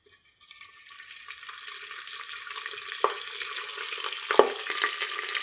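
Curry leaves are dropped into three spoons of hot oil for jeera rice and start crackling: a hiss that swells steadily into a loud, close sizzle with a few sharper pops.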